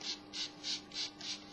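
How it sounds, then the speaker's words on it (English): A spray bottle of hair treatment is pumped over hair extensions in five evenly spaced, short hissing bursts, close and moderately loud, with no voices. "So I'm just going to spray this"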